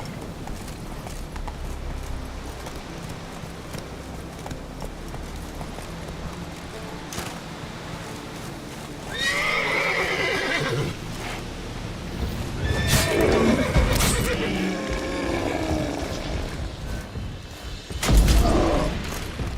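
Roach, the horse in The Witcher 3, gallops with rhythmic clip-clop hoofbeats and lets out loud whinnying neighs in the second half, with thuds near the end.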